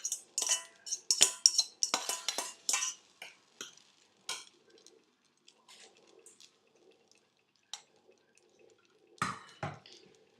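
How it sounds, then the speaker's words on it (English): Drained fusilli pasta being stirred into carbonara sauce in a pot makes wet squelches and clinks of a utensil, busy at first and then sparse, soft and close. "I'm just gonna mix this real good"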